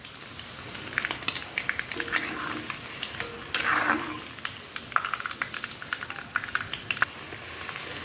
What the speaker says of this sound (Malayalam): അങ്ങനെ നമ്മുടെ ചിക്കൻ എല്ലാം നമ്മൾ വറുത്ത് കോരിയിട്ടുണ്ട്